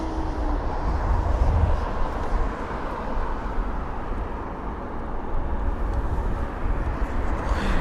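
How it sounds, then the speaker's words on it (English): Airbus A321neo airliner at London Heathrow, a continuous deep engine rumble and wash of jet noise at steady moderate loudness throughout, without talk. "The A321neo, such a stunning aircraft, capable of doing long ranges."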